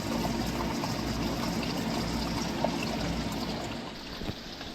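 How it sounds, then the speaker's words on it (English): Water splashes down and bubbles into a pond, a steady nearby trickling and gurgling that runs continuously without speech. "where the water comes in, splashes down, bubbles in the pond, splashing back into the pond"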